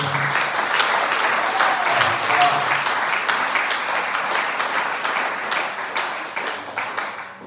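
A church congregation applauds its musicians in a steady, full-room wash of clapping that holds evenly for several seconds before tapering slightly at the end.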